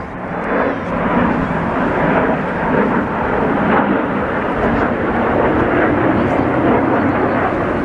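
Loud, continuous rumbling roar of aircraft rehearsing for an air show flying over the Blackpool promenade, a thick wash of engine noise that holds steady for several seconds without talk.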